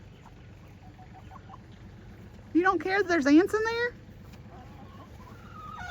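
A broody hen lets out a loud, agitated run of clucks close by, lasting about a second, with a person talking quietly before and after.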